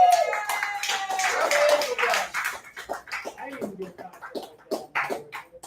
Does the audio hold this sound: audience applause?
yes